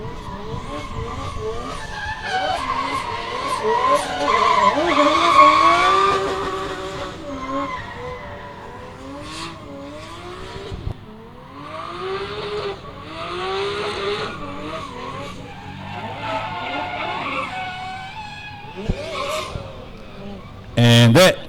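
A G35 drift car at Meremere Drift Park skids at full throttle, engine wailing and rising in pitch over sustained tire squeal, loud and close, with commentary voices running underneath.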